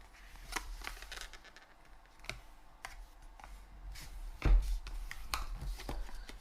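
Paper being folded into creases for a Masu box: soft, close crinkles and sharp little presses of the sheet, with brief louder snaps, quiet overall.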